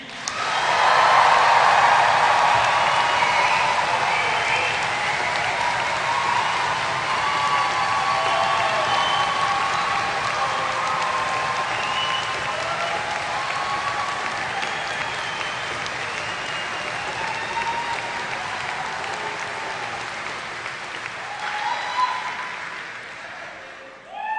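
Graduation audience in a large hall applauding the class of 2024, a sustained roar of many hands that swells loud at the start and then holds steady before tapering slightly, with scattered cheers and no talk.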